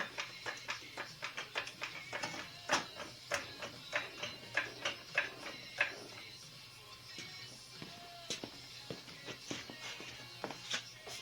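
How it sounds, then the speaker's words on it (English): A car jack is pumped under a vehicle, producing a quiet series of rhythmic clicks and knocks for several seconds before it slows into sparser taps. "we're going to get the jack under there so we can take a little bit of pressure off"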